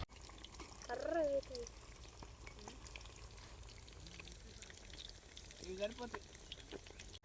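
A pot of chicken dum biryani bubbles outdoors in a mango orchard, a faint, steady simmer and gurgle running throughout, while voices talk over it in short bursts.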